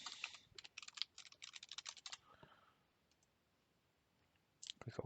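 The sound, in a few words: typing a password on a computer keyboard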